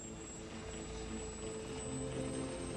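A British Lynx military helicopter flies steadily with a continuous dense rotor and turbine roar, a high whine riding over it, holding an even level throughout.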